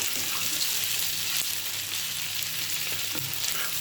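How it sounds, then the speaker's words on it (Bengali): Chopped mera pitha with green chili, onion, egg, salt and oil fries in a pan with a steady, dense sizzle and a few faint stirring scrapes, close and continuous throughout. "মেরা পিঠাগুলো আমি কুচি কুচি করে কেটে কাঁচামরিচ পেঁয়াজ ডিম দিয়ে লবণ দিয়ে তেল দিয়ে ভেজে নিচ্ছি"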